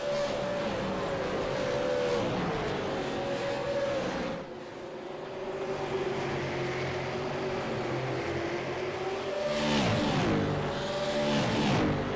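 Super late model race cars racing at North Wilkesboro Speedway, engines roaring loudly as the field passes, with pitch sweeps of cars going by and a brief dip in the roar midway before another close pass.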